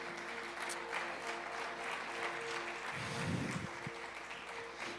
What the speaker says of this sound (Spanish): Dale un aplauso a Dios, se lo vas a dar.